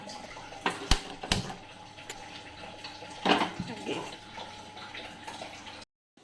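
Water poured into a cooking pot of dried fenugreek leaves with salt, a steady close splashing pour with a few sharper clinks and knocks, running for several seconds before stopping abruptly.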